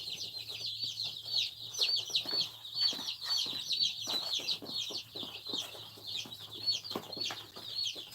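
Rhode Island Red chicks on a farm peep constantly, a dense chorus of high chirps close by, with no talk over them.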